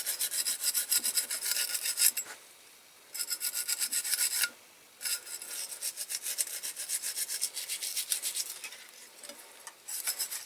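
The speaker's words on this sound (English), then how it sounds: "Needs a bit more of an old scrub." A die-cast Dinky Toys ABC TV van base gets scrubbed during restoration, with rapid close rasping strokes in bursts separated by brief pauses, no voices.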